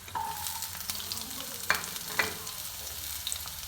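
Chopped onion frying in hot oil for a Bengali pui mete chorchori, a continuous close sizzle broken by a few sharp clinks of a utensil stirring against the pan, with no talking.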